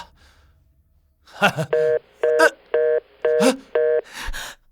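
A telephone number is punched in as six evenly spaced dual-tone keypad beeps, each about a quarter-second long, close and clear, with brief breaths and rustles before and between the tones and a soft exhale at the end.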